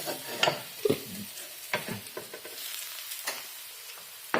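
Hash browns, bacon and eggs sizzling in an Anko 3-in-1 32cm frypan, a steady close crackling hiss broken by several louder scraping stirs and pops.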